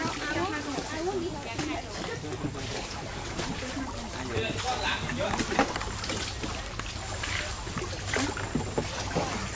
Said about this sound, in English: They just paddle from place to place here.